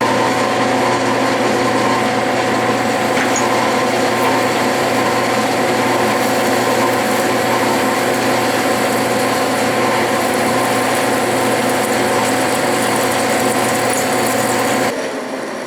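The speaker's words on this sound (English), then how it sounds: "I'm going to drill aluminum, and the reason I'm doing it in the lathe" A steady mechanical whine of a lathe running while a drill bit cuts aluminum, continuous and fairly loud, cutting off abruptly near the end.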